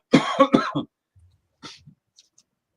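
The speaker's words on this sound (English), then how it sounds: "Need some hot tea for those coughs." Two or three sharp, hoarse coughs burst out close by, followed by quieter breaths and a faint throat-clearing, then near silence.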